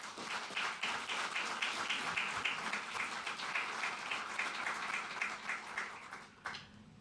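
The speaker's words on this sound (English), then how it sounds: "so a big round of applause for all of you." Applause from an audience after award announcements at a NASA event, a dense, steady wash of clapping lasting several seconds and tapering off near the end.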